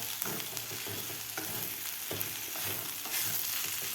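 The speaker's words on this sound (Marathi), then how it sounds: "मीठ घातल्यानंतर आपल्याला हे व्यवस्थित मिक्स करून घ्यायचं आहे." Potato chutney being stirred with salt in a frying pan, a steady sizzle with soft scraping strokes of the spoon repeating every second or so, close and moderately quiet, with no voices.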